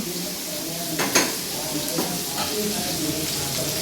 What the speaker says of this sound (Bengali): পেঁয়াজটা ভাজা ভাজা হয়ে যাচ্ছে